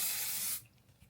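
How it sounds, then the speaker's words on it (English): A spray bottle filled with water gives one short, close burst of hissing mist onto the edge of a wig during an install, then cuts off into quiet. "get you some spray bottle with water, spray that edge around there"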